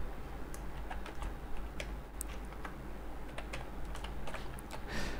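Fingers typing Excel VBA code on a computer keyboard, a steady run of close, crisp key clicks with irregular rhythm and occasional heavier strokes, no voices.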